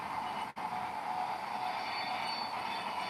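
A train runs on rails with a continuous, moderately faint rolling rumble that drops out briefly near the start, with no voices.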